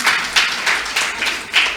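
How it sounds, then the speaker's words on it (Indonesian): An audience claps at a university public lecture, with steady, dense applause that swells in several rhythmic surges over a couple of seconds and no voices above it. "Nah, tepuk tangan lah."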